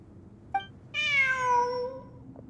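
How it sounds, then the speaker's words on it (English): A cat in the video game Genshin Impact gives a short chirp and then one clear, drawn-out meow, close and distinct over a quiet background. "Look! A cat!"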